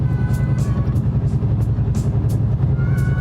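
Steady low rumble of a 1999 Ford Mustang Saleen S281 engine while driving, a constant droning exhaust note heard from inside the car with faint road hiss and no talk.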